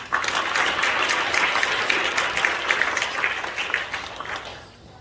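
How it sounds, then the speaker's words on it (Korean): Church congregation applauding at an anniversary ordination thanksgiving service, a dense, steady wash of clapping from many people that holds for several seconds, then fades at the end. "큰 박수로 맞이하도록"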